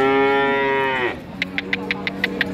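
At a cattle market, a cow gives one long, loud moo that fades out after about a second, followed by a series of regular clicking or tapping sounds.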